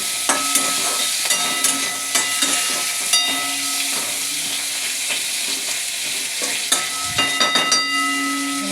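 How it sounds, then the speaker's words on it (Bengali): Fish frying in a pan of simmering curry, a steady sizzling hiss with scattered crackles and pops, close and continuous with no talking. "মাছ ভাজা হচ্ছে"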